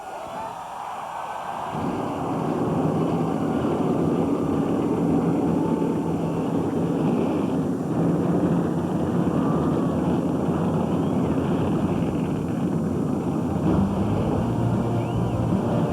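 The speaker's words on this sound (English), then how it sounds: "Gentlemen, start your engines!" Stock car engines fire up together at Martinsville, rising from near silence into a loud, sustained, rumbling roar of many V8s idling and revving with a crowd-like wash behind them.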